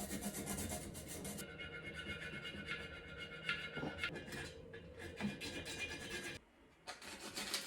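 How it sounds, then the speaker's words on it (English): A small hand file rasps away casting burrs inside a soft magnesium engine case, giving close, steady scraping strokes that continue almost without pause before briefly stopping near the end. "So I'm just going to use my small file to start with"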